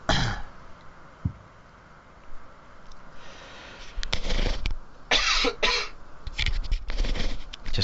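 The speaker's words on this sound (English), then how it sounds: "Just clearing my throat there for a bit of dramatic pause." A man clears his throat and coughs in a few separate rough bursts, close to the microphone, during a quiz-style chat about rugby, with quiet gaps between the bursts.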